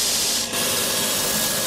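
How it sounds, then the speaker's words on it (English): A grinder works the edge of a cavalry sabre blade, giving a loud, steady abrasive hiss close up with one brief dip partway through. "Let's grind on it first."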